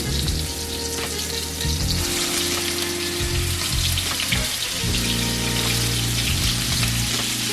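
Salisbury steak patties, shaped like small round hamburger patties, fry loudly in a pan with a steady close sizzle and spatter, overlaid by low clattering and a hum from the stovetop, with no talking.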